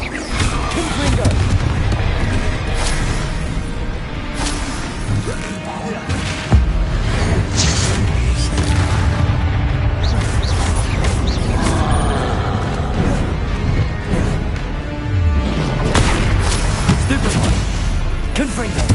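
Repeated Confringo spell blasts in Hogwarts Legacy combat, a series of booming explosions and whooshes scattered across the clip amid dense game noise and a voice talking over it.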